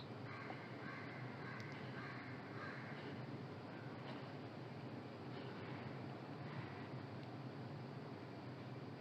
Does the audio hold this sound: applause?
no